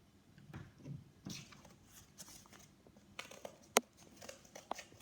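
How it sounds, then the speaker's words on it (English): Scissors snip through a cardboard circle traced around a CD for a zoetrope, giving a few quiet, scattered cuts and crinkles with one sharper snip near the end, close and faint in a quiet room. "And then you just want to cut that out with scissors."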